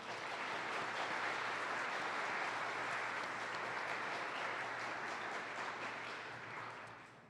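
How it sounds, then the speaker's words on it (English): Sustained applause from a civic club audience at a public forum, a dense, steady wash of many hands clapping that holds evenly for several seconds before tapering off at the end. "Please join me in a warm round of applause for all of them."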